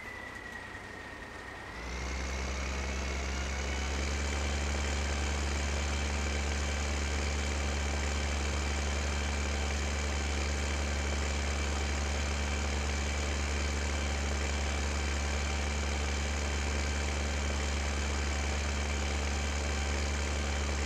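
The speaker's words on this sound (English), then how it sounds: "The quiet countryside and the sound of a 1930 something diesel." A 1930s-era diesel tractor engine in Farming Simulator 15 starts up and settles into a steady, loud, continuous drone with a deep low thrum and constant mechanical whine, running unbroken and alone.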